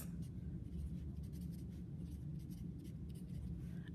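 A pen or marker scratches words onto the cover of a paper flipbook, a faint, steady close-up scraping with small strokes over a low background hum, no talking.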